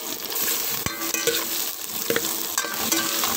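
Wild lubi-lubi greens and ginger sizzle steadily in a pan while being stirred, with several sharp scraping clicks from the spoon cutting through the constant frying hiss, close and fairly loud.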